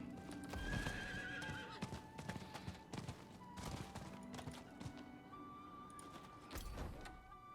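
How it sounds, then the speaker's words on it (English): A horse's hooves clip-clop in Diablo IV: Vessel of Hatred, the mount trotting in a steady rhythm close by, with a whinny and scattered game effects mixed in. "My normal horse, of course"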